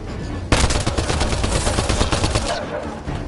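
Dense, loud gunfire from the Mass Effect video game, rapid overlapping shots and bursts erupting after a brief quieter moment and continuing steadily before easing near the end.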